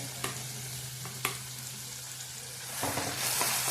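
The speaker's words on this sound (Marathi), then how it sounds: "तो तेलात आधी चांगला आपण भाजून घ्यायचा आहे" Masala paste for spicy Ghati-style mutton curry sizzles and crackles as it roasts in hot oil over medium heat, with a couple of sharp clinks from a spoon and the frying growing louder toward the end.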